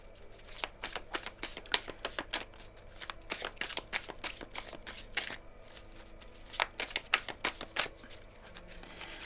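Tarot cards being shuffled for a reading, a long run of crisp riffling and flicking bursts in quick uneven rhythm, close and fairly quiet, with no talking.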